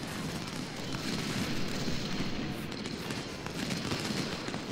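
Rumbling artillery cannon fire from a Civil War battle at Antietam in Ultimate General: Civil War, a steady dense roar of booms and bursts filling the whole stretch, with faint voices underneath.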